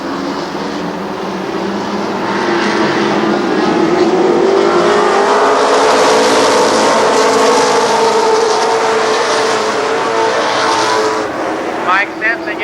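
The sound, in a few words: race cars at Columbus Motor Speedway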